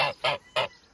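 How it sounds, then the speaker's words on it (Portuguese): A goose on a farm gives three loud, nasal honks in quick succession, close by, with short gaps between each call and no talk over them. "Aqui é o ganso que o Nondas e o JV nos presenteou."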